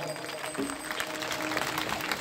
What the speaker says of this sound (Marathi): गावकऱ्यांसाठी एकदा जोरदार टाळ्या वाजू द्या बघा